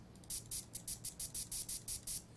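A spray can in the video game Internet Cafe Simulator 2 hisses in about nine short, evenly spaced bursts over a low background hum.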